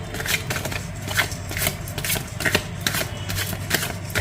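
A deck of tarot cards being shuffled by hand, a continuous riffling, flapping rustle with regular sharper slaps roughly every second, close and fairly loud, no speech.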